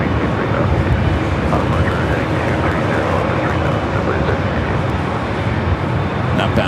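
A Boeing 787-9 Dreamliner at LAX gives off a loud, steady broadband jet roar that holds level for the whole stretch, with voices talking over it.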